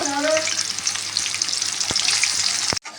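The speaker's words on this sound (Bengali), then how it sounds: "পেঁয়াজটা লাল লাল করে ভাজা হয়ে গেছে" Onions frying in hot oil in a kadai give a loud, steady, close sizzle with light crackling throughout, then stop abruptly just before the end.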